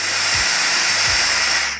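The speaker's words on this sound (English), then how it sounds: "Clean it from outside and let a little steam out," Steam hisses loudly and steadily from the spout of a Wonderchef Regalia 15-bar espresso machine, a close, continuous jet with a low mechanical hum pulsing underneath.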